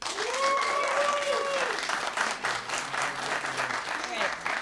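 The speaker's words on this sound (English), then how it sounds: "you're gonna clap for that person" A comedy roast battle audience claps and cheers loudly and steadily, with a few voices shouting over the applause before it slowly thins out.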